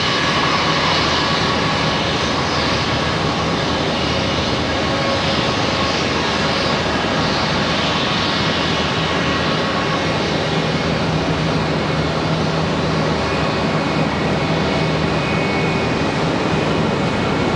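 An American Airlines jet in AirCal livery roars steadily on the ground at Charlotte Douglas airport, a broad, loud, continuous engine rush with no talk.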